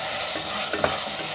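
Coarsely crushed spices dry-roasting in a pan on the stove for a spinach and potato sabzi, a brief steady sizzle and hiss with a couple of light stirring scrapes, close by and alone.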